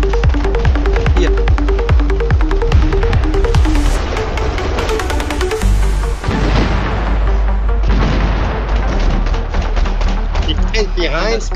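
A C4 charge goes off in a multiplayer shooter video game, deep booms and throbbing blasts under constant loud gunfire and game noise, with players talking throughout.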